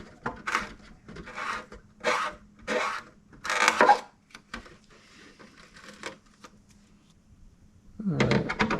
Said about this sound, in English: Just taking a reamer and open these up a bit.